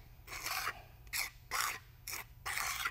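A trowel spreads a thin concrete topping over the seams of a vinyl tile floor, making four rough, scraping strokes in an uneven rhythm. The strokes are close and moderately loud, with short quiet gaps between them.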